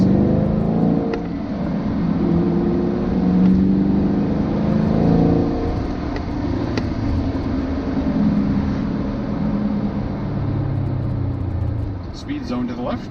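A 2018 Chevrolet Camaro SS 1LE holds a steady low engine drone with mild revving while driving on a road, heard from inside the car, with people talking over it.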